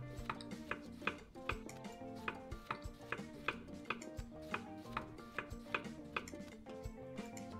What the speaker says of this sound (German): Alles klein schneiden und auf den Spieß drauf.